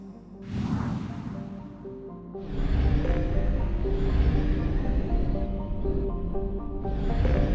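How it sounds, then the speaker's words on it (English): A planet-scanning probe launches in Mass Effect Legendary Edition: a sharp rising whoosh, then a sustained rumbling, humming surge with layered tones that holds loud and steady to the end. "Probe launched."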